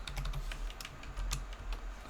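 Quick keystrokes on a computer keyboard while using a code editor's command palette, a close, steady patter of light clicks with no talking.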